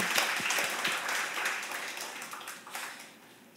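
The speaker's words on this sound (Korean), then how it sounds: "하나님 앞에 영광의 박수 올립니다." A short burst of applause from a church congregation, steady clapping that fades out toward the end.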